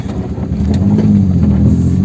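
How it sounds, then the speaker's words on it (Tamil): A Maruti 800 petrol car moves slowly with a low, steady engine hum and a faint rising drone, heard close from inside or beside the car, without voices. "வண்டி நல்லா ஸ்பீடெல்லாம் போகுங்க நான் வந்துட்டு இப்போ ஸ்லோவாக போயிட்டுருக்கேன்"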